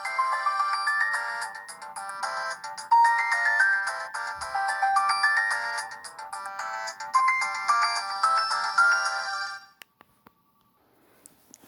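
A Samsung GT-E1272 ringtone plays on a Newmind F15 flip phone as a loud, close, bright electronic melody of quick repeating beeping notes for about ten seconds, then stops abruptly into near silence.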